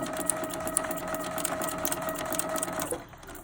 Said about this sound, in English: just keep sewing till you get to the end